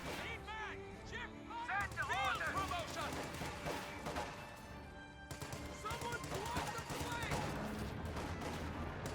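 Gunfire at a Sherman tank in Company of Heroes 2 rattles in dense bursts and sharp cracks amid battle din, with a voice talking over the shooting throughout.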